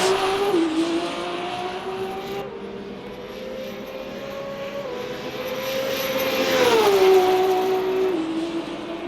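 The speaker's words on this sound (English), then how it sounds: "Here is the number 8 GR010 of Mars Medina coming around one of the Lexus GT3s." Toyota GR010 prototype race car in the Le Mans Ultimate game at the 24 Hours of Le Mans, its engine whining loudly as it overtakes a Lexus GT3, pitch falling and rising through gear changes with no talk.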